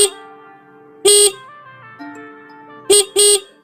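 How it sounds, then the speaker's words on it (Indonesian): A Yamaha R15 motorcycle horn gives two short, loud bursts, one near the start and a double beep toward the end, separated by quieter tonal sounds. "nyalakan klakson motor Anda."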